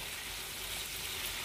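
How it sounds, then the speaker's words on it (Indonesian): Steady, close sizzling of curry-spiced chicken frying in hot oil in a pan, a continuous crackling hiss with no voices. "Bunyi tu maksudnya masih ada lagi air dalam ayam ya."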